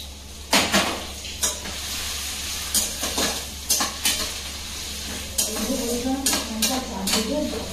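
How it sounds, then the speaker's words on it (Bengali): Fried rice with carrot, beans and capsicum sizzles in a hot pan while a spatula stirs and scrapes it in repeated clattering strokes, close up, over a steady frying hiss. "এখন শুধু ভাজবো আর মিক্স করে দেবো।"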